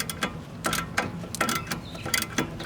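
A wrench works a 13 mm bolt on the tie rod of a B6 Audi A4, giving a series of quick metallic ratcheting clicks in short uneven bursts, close and fairly loud.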